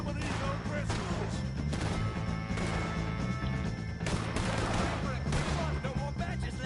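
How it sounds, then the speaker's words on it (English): Sustained gunfire against O'Driscoll gang members in Red Dead Redemption 2 crackles as a dense, continuous barrage of shots and crashes over a steady musical bed, with voices mixed in. "If you can hear me, shoot some of these O'Driscolls."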